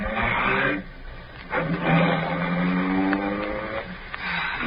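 A car engine revs and pulls away in an old 1942 radio drama set in occupied Paris, a loud rising motor roar with shifting tones close by, continuing for several seconds.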